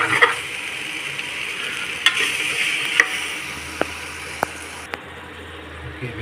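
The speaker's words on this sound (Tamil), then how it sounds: "வெங்காயம் நல்லா வதங்கிக்கிட்டு இருக்கு" Onions frying in a pan for a chicken biryani, a steady broadband sizzle with a few sharp clicks and taps of a spoon stirring against the pan, close and fairly loud, with no voices.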